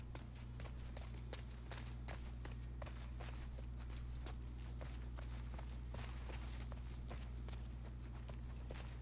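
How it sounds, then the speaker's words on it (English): Faint, regular hoof clops of a horse walking at an even pace in the video game The Last of Us Part II, steady and unhurried over a low, constant hum. "The horse follows you where you go."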